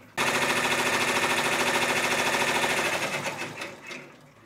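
A multi-needle embroidery machine stitches a tack-down line through fabric for a quilted table runner, a fast, steady mechanical rattle that runs continuously and loud before slowing and fading near the end.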